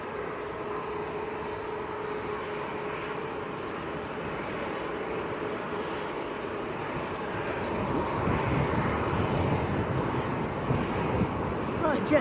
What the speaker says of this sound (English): The Jet 2 A330 is coming out as well